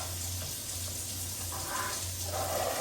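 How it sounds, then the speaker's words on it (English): Hot water runs from a kitchen tap into a pan while gravy is being made, a steady hissing splash that holds at moderate level and thickens slightly toward the end. "And hot water."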